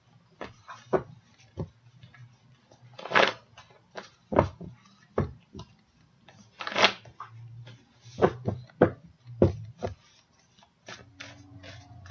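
Tarot cards are shuffled in a series of sharp riffles and soft slaps, irregular bursts separated by brief quiet pauses, close up.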